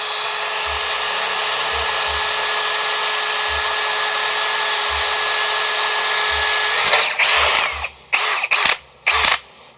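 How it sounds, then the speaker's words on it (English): AEG BSB18BL brushless cordless drill running in one long steady high whine, then stopping and firing in several quick short bursts near the end, loud and close. "AEG Brushless. Very powerful, very happy, very good. Drills holes."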